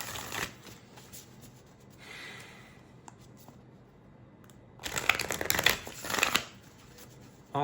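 Tarot cards being shuffled in a couple of papery, riffling bursts near the start and again toward the end, separated by a quieter stretch with no talking.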